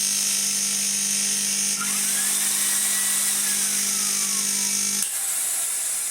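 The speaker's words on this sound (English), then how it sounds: "That is the sound of a pump that is not happy." A strained pump motor in a Numatic vacuum cleaner runs with a steady loud whine and a low hum, close and continuous, and the pitch drops abruptly near the end.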